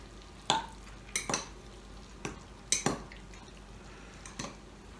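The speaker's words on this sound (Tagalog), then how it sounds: "Haluin natin ito para yung kahapit sa kahapit." Pork sisig stirred in a pan, giving several separate scraping clatters of utensil against metal spaced across a few seconds, with a faint fry underneath.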